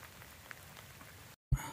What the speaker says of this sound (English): All right, the rainstorm's passing.